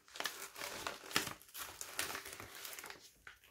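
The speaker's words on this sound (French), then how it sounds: "c'est parti pour ouvrir les deux colis que j'ai reçus" A paper envelope from a received mail package is torn and crinkled open, with a steady run of close, dry rustles and crumpling bursts throughout.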